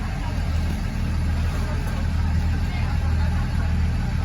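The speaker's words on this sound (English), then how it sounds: "I bet it's one of the late buses." A late-running bus passes close by, a steady loud low engine rumble and road noise filling the whole stretch without a clear rise or fall.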